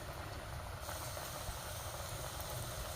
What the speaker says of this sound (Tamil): தோசைக்கல்லில் போட்டதை திருப்பி எண்ணெயில் பொறிச்சு எடுக்கணும்